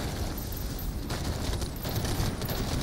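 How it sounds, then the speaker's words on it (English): Dense suppressive gunfire in the shooter Synced, a continuous roaring fusillade of rapid overlapping shots and booms, loud and unbroken throughout the short burst. "Suppressive fire."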